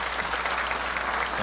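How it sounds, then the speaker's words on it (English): An evening sports hall of fame induction banquet audience claps steadily for the master of ceremonies, a dense, even wash of applause filling the room. "How about a quick round of applause for our Master of Ceremonies?"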